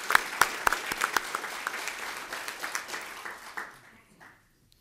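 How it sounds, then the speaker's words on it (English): Audience applause for Core Value Award winners at an employee recognition ceremony, opening with loud distinct claps that blur into a steady round and then fade out to silence near the end. "Let's give all of our Core Value Award winners a round of applause."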